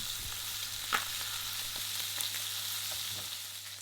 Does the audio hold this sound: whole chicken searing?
yes